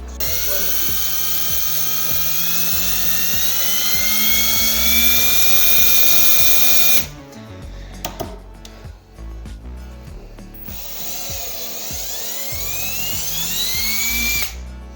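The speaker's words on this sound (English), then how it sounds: "we're gonna notch our little pilot holes here with my handy dandy drill" A high-pitched power drill whines steadily for several seconds while drilling pilot holes in wood for cabinets, then cuts out into scattered clatter and handling noise before spinning up again near the end.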